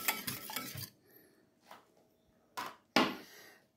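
Spoon clinks and scrapes against a bowl while a jelly sweet mixture is stirred, a quick burst of clatter at first, then softer scraping and two sharper knocks near the end, with no talking.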